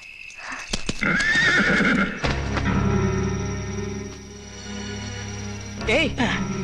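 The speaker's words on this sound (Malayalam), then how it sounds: "മൻസൂർ, കുതിര വിട്." A horse whinnies in rising, wavering calls over a steady rumble and clopping hooves, with people talking loudly alongside; a second neigh breaks out near the end.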